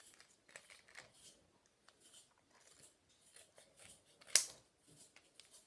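Scissors trim around the edge of a paper cutout for a fingerboard, a quiet run of small, irregular snips and crinkles with one sharper, louder cut near the end.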